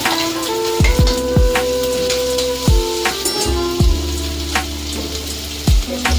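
Ginger and green chilies frying in a little oil for pasta make a loud, continuous sizzle, broken by repeated clattering knocks of stirring against the pan.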